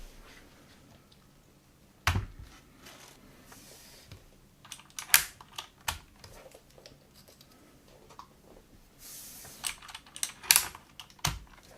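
Keycaps are picked off a Filco mechanical keyboard, faint scattered plastic clicks and sharp snaps arriving irregularly over quiet background.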